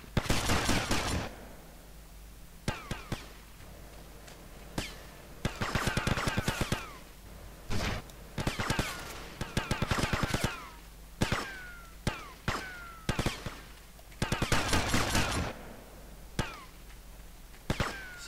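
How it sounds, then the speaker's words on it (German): Gunfire in the game GTA Vice City crackles in repeated bursts of rapid shots with short pauses between, loud and sharp, spread across the whole stretch. "Er schießt."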